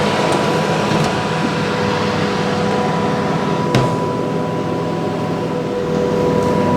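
An oven running while baking, giving off a steady, loud mechanical hum with a constant tone and one brief click partway through.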